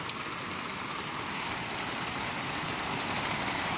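Steady rain falls in an even, hissing patter that holds constant from start to finish, with no voices.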